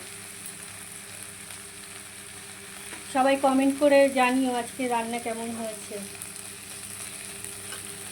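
Food fries in a pan on a home stove with a constant close sizzle and some stirring. Partway through, someone talks over the frying for a few seconds.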